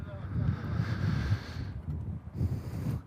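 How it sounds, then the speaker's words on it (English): Wind gusts buffet the microphone across an exposed parking lot, a low rumbling roar that swells and dips in uneven bursts, with a voice speaking partway through. "I think it's just the wind in this lot."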